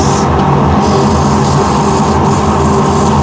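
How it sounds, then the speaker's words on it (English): Turned wood being sanded with 180-grit sandpaper on a lathe produces a loud, continuous, close-up rasping rub without pause. "I'll just do a few more rubs with 180."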